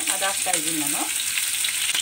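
Green chillies sizzling in hot oil with mustard seeds for vermicelli upma, a loud dense hiss of frying under a brief spoken remark at the start, then the sizzle continuing alone.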